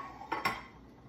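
A metal muffin pan clatters briefly in a kitchen, two quick close metallic knocks followed by a short ringing decay, with no talking.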